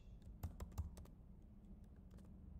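Computer keyboard typing while entering code, a handful of quiet, sharp key clicks in an uneven rhythm, close and faint against a low background hum.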